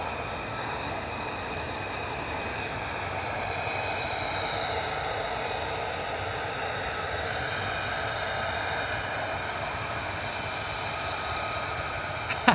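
Steady, loud jet engine roar from F-35 fighter jets taxiing at RAF Lakenheath, a continuous broadband whine with slowly shifting high tones that holds level throughout, no voices heard.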